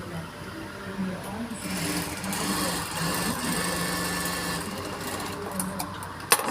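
A sewing machine stitches fabric for a small puff, its motor whirring steadily at close range through the whole stretch with a slight rise in speed, and brief clicks near the end.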